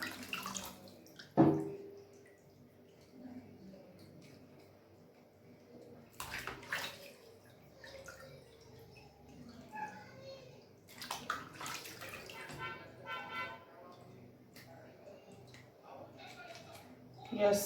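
Water splashes and sloshes in a basin while a fish is cleaned, with occasional bursts of running water, drips and handling noise, and a person talking quietly in between.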